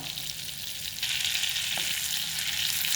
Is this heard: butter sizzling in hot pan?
yes